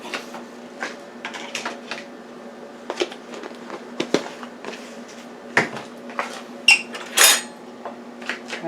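A utensil stirs grated Parmesan cheese into ziti pasta sauce in a pot off the heat, giving intermittent clicks, scrapes and light clinks against the pan at a steady, uneven pace, close and fairly quiet.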